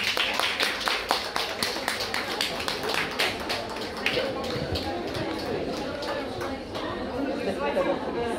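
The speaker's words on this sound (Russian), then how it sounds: "Аплодисменты." Spectators at an FCI group 1 dog show in St. Petersburg clap in a brief, fairly rhythmic burst that fades out, with crowd chatter and talking continuing underneath.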